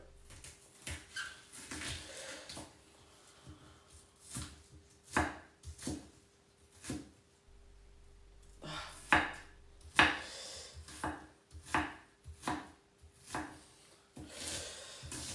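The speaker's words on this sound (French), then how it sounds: "je vais rapidement découper ça et le poser dans la poêle." A knife chops food on a cutting board in a home kitchen during morning cooking, with irregular knocks and scraping strokes in small bursts, close and moderately quiet.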